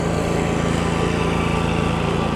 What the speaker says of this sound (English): Here comes a lawnmower guy.